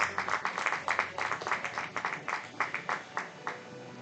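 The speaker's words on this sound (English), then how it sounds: "Round of applause in the building for Jaden Moreno" Crowd applause for pitcher Jaden Moreno at a Post 22 Hardhats baseball game, distinct rhythmic clapping from a modest crowd, fairly distant and steady with light crowd noise behind.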